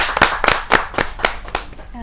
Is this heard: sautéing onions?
no